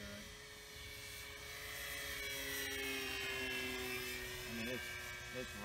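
Flex Innovations Mamba 10 RC airplane, a highly maneuverable model flown at under half throttle, gives a steady whining motor drone that holds throughout with slight pitch shifts as it maneuvers, while a person talks over it.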